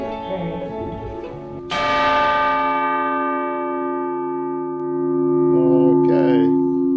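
Church bell in an old Scandinavian town, heard from close by near the tower, strikes once loudly and then rings on in a long sustained hum, with a second softer stroke near the end and no talking.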